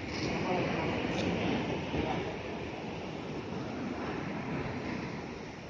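Sea waves washing onto a beach at a resort, a continuous loud roar of surf with wind buffeting the microphone and no clear breaks between swells.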